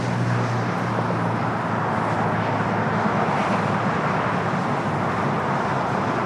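A Cathay Pacific Boeing 777 airliner at LAX produces a broad, steady jet-engine roar that stays loud and unbroken throughout.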